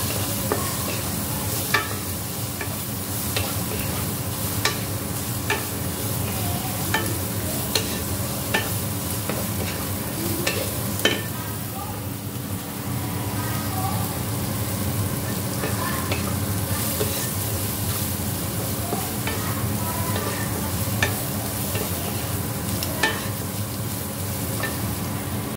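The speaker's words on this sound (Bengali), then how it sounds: "আমি এখানে ডিমটাকে আগে একটুখানি ভেজে নিয়ে এর ঝুড়ো ঝুড়ো করে তুলে রাখবো" An egg fries in a pan for egg and carrot chowmein, giving a steady loud sizzle with repeated scraping and stirring strokes throughout and no talking.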